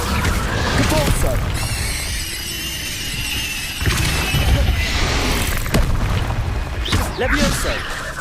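Depulso force spell cast in Hogwarts Legacy on PS5: a loud burst of magical whooshes and booming impacts with bright squealing shimmer, amid continuous layered combat effects that swell and crash several times.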